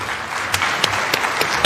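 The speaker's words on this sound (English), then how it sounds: "A round of applause for His Excellency, the President of the Republic of Kenya, William Samoei Ruto." Audience applause for the President of Kenya at an African heads-of-state summit, dense clapping from a large hall with a few sharper claps standing out, heard alone without talk.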